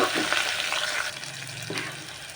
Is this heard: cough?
no